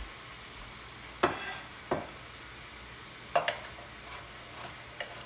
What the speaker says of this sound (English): while this meat is browning